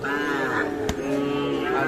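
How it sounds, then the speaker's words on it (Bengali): Sahiwal bull calves at a cattle market give a steady, close lowing moo with harmonic tones across the whole moment, plus a brief sharp knock near the middle. "আর দেখছিলাম কয়টা শাহিওয়াল বাছুর"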